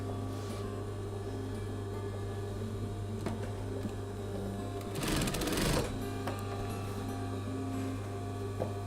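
A sewing machine stitches folded cotton bias binding onto the neck edge of a man's shirt, with a steady mains hum throughout and a short burst of fast, close whirring stitching near the middle.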